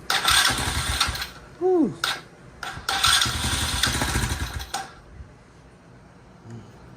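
A 125cc Tao Tao Venom ATV engine cold-starts, cranking and catching with a loud roar, revs hard a few times, then settles to a quieter idle; a person whoops briefly midway.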